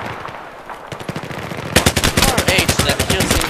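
Rapid automatic gunfire in Battlefield 3 multiplayer, sparse shots at first, then a dense, loud burst of steady machine-gun fire.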